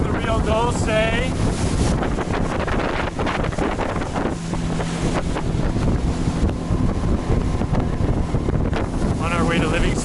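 A boat travels down the Rio Dulce in Guatemala toward Livingston, with steady engine rumble and water wash under continuous wind buffeting on the microphone, plus brief voices near the start and end.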